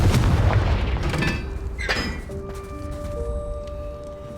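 A Confringo fire spell explodes in Hogwarts Legacy on Nintendo Switch, giving a heavy booming blast and a bright crackling burst, followed by ringing chimes and sustained tonal game effects that fade out.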